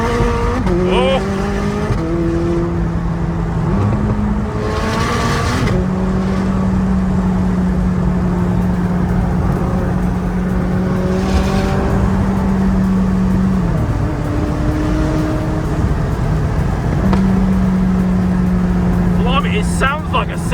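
McLaren 600LT Spider accelerating hard on a dual carriageway, engine note climbing through rising gear sweeps with sharp upshift breaks, loud and close from inside the car, with excited voices talking over it.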